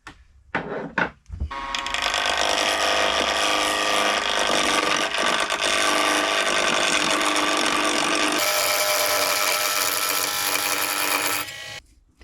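A pen blank of custom epoxy or segmented wood spins on a lathe while a negative rake scraper cuts it, giving a steady, loud, continuous broadband scraping whir for about ten seconds after a few brief taps at the start.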